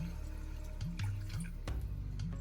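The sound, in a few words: pouring chicken broth into pot for cheeseburger soup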